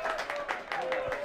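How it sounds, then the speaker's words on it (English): A home crowd applauds at a football match between AFC Croydon Athletic and Jersey Bulls after a shot is saved, with a steady broadband patter of clapping running beneath a commentator's voice. "that brings applause from the home faithful."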